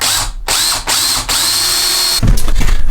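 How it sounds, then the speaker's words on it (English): A power drill bores a hole into a green wood knife handle to fit a knife tang, whining loudly and steadily with short pauses and a rougher, louder grind near the end. "drill this straight down to the length of the tang"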